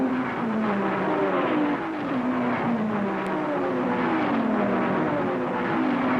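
Racing cars at Le Mans, including Triumphs, an experimental 2.4-litre car and a 3-litre Ferrari, roar in a continuous, loud engine drone with shifting pitch as they run together through the course.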